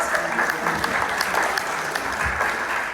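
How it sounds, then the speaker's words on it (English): Audience applause greets a couple about to present at Trinity Landing, a dense, steady wash of clapping from a nearby crowd that holds at an even level throughout with no talk. "we're going to go ahead and give a big round of applause for Mike and Sherry Walters as they present."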